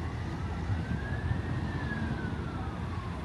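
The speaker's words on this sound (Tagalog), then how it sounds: "Ay, ambulance. Nang wiwiw ba? Kaya natawag na fire truck." An emergency vehicle siren, ambulance or fire truck, wails past in the distance over steady traffic rumble, a single slow rising and falling tone, moderately faint and with no talk.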